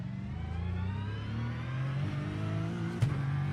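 A racing car engine in the iRacing sim racing game revs continuously, its pitch climbing gradually, loud and close, with a brief sharp click near the end.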